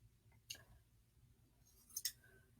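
Scissors snip through a plastic milk jug in a quiet room, two faint, short cutting clicks about a second and a half apart with near-silence between.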